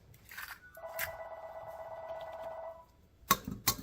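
A phone rings in a home kitchen during pancake making, a steady electronic tone lasting about two seconds, followed by a couple of sharp clicks or knocks near the end.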